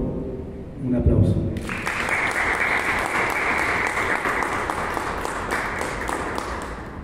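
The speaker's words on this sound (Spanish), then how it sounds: "por favor, un aplauso" A room full of people breaks into sustained applause after a brief voice, the dense clapping holding steady for several seconds.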